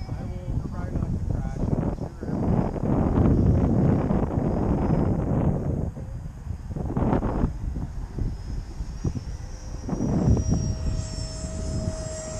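An electric RC foam and balsa model airplane flies with a steady propeller whine under wind noise and people talking, fading as the battery runs out for an emergency landing.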